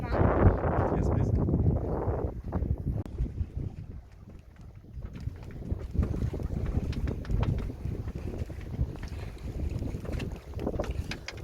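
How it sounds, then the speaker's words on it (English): A sailboat under way to Puerto Torres in strong wind, with steady rushing wind, water wash and buffeting gusts across the mic, while people talk over it for a moment early on. "we are now sailing to Puerto Torres"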